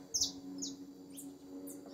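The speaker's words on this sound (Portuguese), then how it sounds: "tá cantando canário" A canary near its nest gives a few short, high chirps spaced across two seconds, fairly faint over a steady low hum.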